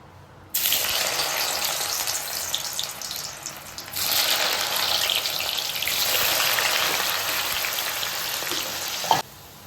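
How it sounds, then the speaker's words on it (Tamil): Pieces of elephant foot yam frying in hot oil, a loud, close, continuous hiss and sizzle that starts abruptly and swells midway before cutting off. "இப்போ வந்து எண்ணெய் காய வச்சுருக்கேன். அதில் போட்டு பொரிச்சுக்கிறேன்."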